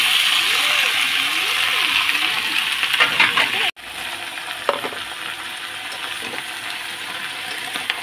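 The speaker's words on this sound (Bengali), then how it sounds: "পাঁচফোড়নটা ভাজা হয়ে গেছে, এরপরে সবজিগুলো আমি সব ছেড়ে দেবো" Vegetables for a vegetarian spinach curry hitting hot mustard oil spiced with five-spice and dried red chilli, giving a steady loud sizzle with a brief clatter and break midway, and a faint voice early on.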